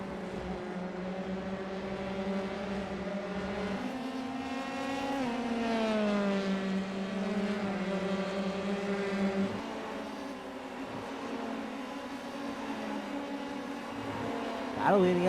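Honda Formula One race car in a sim racing game at Donington, its engine a continuous high, harmonic whine that climbs and drops with shifts and throttle changes throughout, with faint commentary underneath.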